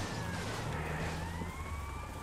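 An emergency siren wails steadily in the GTA Vice City video game, sustained rising and falling tones over heavy engine and traffic rumble, loud and continuous throughout.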